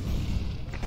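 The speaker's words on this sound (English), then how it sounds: "Throwing a grenade." A grenade bursts in a first-person shooter match, a brief, dense, low boom filling the moment, loud and close with a rough rumbling texture and no clear tail.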